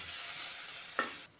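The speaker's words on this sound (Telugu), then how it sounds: "అల్లం వెల్లుల్లి పేస్ట్, గరం మసాలా, బిర్యానీ మసాలా, పసుపు, ఇవన్నీ కలిసిలా తిప్పుకోవాలి" Ginger garlic paste, garam masala, biryani masala and turmeric being stirred into chicken in a pan for Chicken 65 biryani, a steady close hiss of frying with one brief scrape of the spoon near the end.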